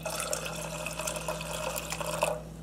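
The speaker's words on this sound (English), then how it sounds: "I'm gonna put in some juice." Pork juice trickles steadily from pulled pork into a saucepan of barbecue sauce warming on low heat, a soft continuous liquid pour heard up close and fairly quiet.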